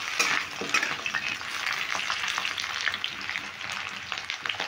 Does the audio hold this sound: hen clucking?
no